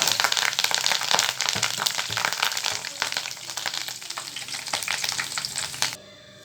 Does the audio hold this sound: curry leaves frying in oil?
yes